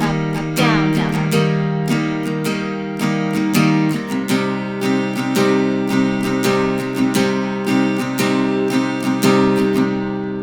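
Acoustic guitar strummed in a steady down-up pattern on sustained chords for a song, bright and even at a moderate tempo, close and alone.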